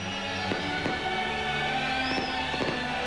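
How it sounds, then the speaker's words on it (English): Fireworks blasting over Manger Square and the Church of the Nativity in Bethlehem during a millennium celebration, heard as a dense, steady roar with scattered thuds and crackles and a faint musical tone running underneath. "The fireworks have been blasting for over 5 minutes now."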